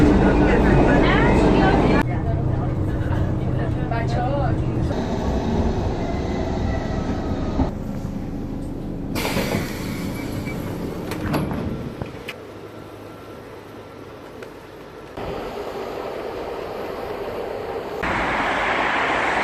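A metro train in a station, with its sliding doors, makes steady broadband rumble and whoosh that shifts in level as it moves, with a brief squeal-like burst, all fairly loud and close, with faint voices mixed in.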